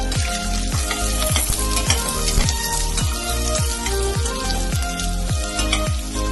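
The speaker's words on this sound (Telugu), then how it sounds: "ఎగ్ కొంచెం సేపు ఫ్రై అవ్వాలి" Egg frying in a pan with onions and curry leaves for egg fried rice, a steady close sizzle and crackle broken by regular scraping strokes of a spatula stirring, with no talk.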